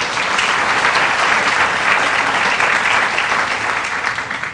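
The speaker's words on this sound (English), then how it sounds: "Give him a round of applause." Loud, dense applause from an audience at a pharmacy groundbreaking ceremony, sustained clapping across the whole stretch and tapering slightly at the end.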